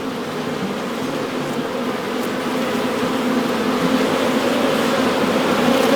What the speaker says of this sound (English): Got Bees flying in my eyes.